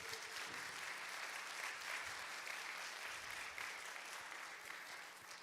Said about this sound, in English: why don't we give big applause again to him?